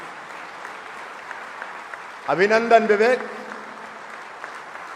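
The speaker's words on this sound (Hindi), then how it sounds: "जरा जोरदार तालियां हो जाए, एक बार हाल गूंज जाए" Hall audience in a welcome ceremony for hockey medalist Vivek Sagar Prasad, with steady crowd applause throughout and a louder swell lasting about a second, while a voice speaks over it.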